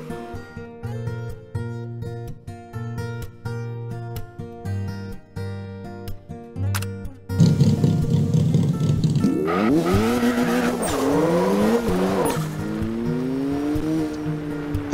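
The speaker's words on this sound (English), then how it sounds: "Now I'm gonna show you how this car runs without sway bar." In the video game CarX Drift Racing 2, a car with no sway bar drifts through a run of bends: the engine revs hard and steadily, with tire squeal rising and sweeping through each slide, all after a stretch of backing music.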